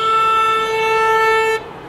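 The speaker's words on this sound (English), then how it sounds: "keep honking" A single loud car horn blares steadily at a Free Azov street rally. The sustained honk lasts about a second and a half, then cuts off abruptly.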